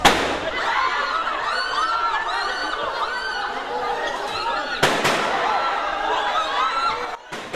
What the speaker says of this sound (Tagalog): Umalingaw-ngaw ang sunod-sunod na putok ng baril sa second floor ng gusali ng Senado